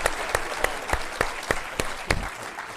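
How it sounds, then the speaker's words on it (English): Applause for an award recipient at an Army ceremony, heard as a run of sharp, evenly spaced claps about every third of a second, fairly close and loud. "Let's give him another round of applause."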